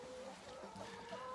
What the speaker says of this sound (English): there's a few chickens in there, there's some chickens free-ranging out there